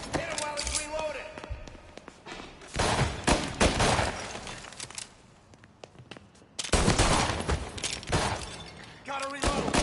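Gunfire in the game Mafia Definitive Edition: bursts of rapid shots and sharp cracks in clustered volleys with short lulls between, loud and close, with voices shouting over parts of the action.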